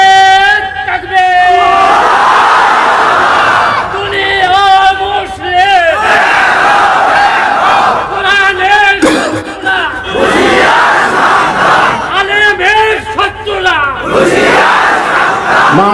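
A large religious gathering answers a takbir call, many voices shouting Allahu Akbar together in repeated loud bursts, close and overlapping, with chanting rising and falling across the crowd.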